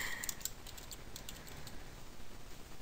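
Quick keystrokes on a computer keyboard while a layer name is typed in Adobe Photoshop; a brief run of soft, close clicks with no talking.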